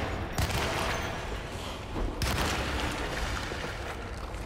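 Tommy gun fire in the survival horror game Alone in the Dark, a dense, sustained burst of rapid shots that stays loud and steady across the whole stretch, with no talking over it.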